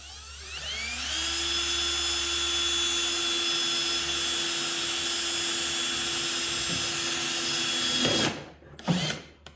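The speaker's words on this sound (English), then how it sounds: "first I'm going to start by just drilling the hole here into the box" A power drill whines steadily at high speed for several seconds, close by, drilling a hole into a battery box, then sputters and stops with a couple of brief rattling bursts.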